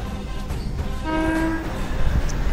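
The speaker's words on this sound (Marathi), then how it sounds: "त्यात रेल्वे पण आली आहे" A train rumbles past close by, with a low, steady drone and a brief tonal horn-like note over the noise.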